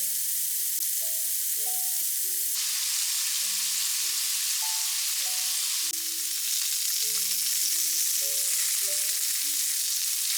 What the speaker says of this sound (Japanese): レンコンを焼きます。 人参と油揚げも炒めよう。